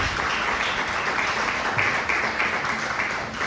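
A church congregation claps in a sustained, dense burst of applause, steady and moderately loud throughout with no voices above it.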